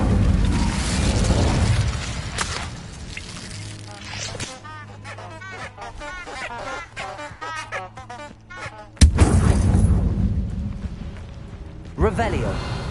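Incendio fire spell cast in the game Hogwarts Legacy: loud whooshing fire bursts with booming impacts, a sudden heavy blast near the end, and game music and effects underneath.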